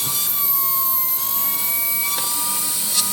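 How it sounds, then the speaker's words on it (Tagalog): A router machine cuts through plywood, guided along a straight edge for trimming high-pressure laminate, giving a steady high-pitched whine with a sustained tone and a brief bump near the end, close and loud with no talk. "So ang gamit kong pangputol dyan is router machine."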